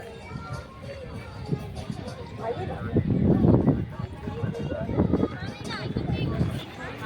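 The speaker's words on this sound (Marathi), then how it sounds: "खूप गर्दी आहे आणि खूप रश आहे इथे आज धापेवाड्याला" Crowd at a busy temple fair (yatra) in Dhapewada, an outdoor hubbub of many voices and movement swelling in the middle, with a person talking close by over it.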